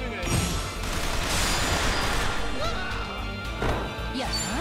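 Combat in the video game Like a Dragon: Infinite Wealth, set in Hawaii, brings gunfire mixed with crashing impacts. Sharp bursts stand out at the start and again near the end over a dense, ongoing game soundtrack.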